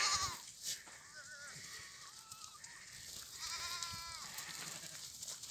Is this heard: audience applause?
no